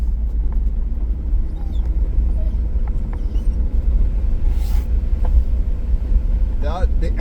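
A vehicle rolls along a bumpy dirt road in Nova Scotia, its low engine rumble and road noise steady and close throughout, with occasional faint knocks and squeaks.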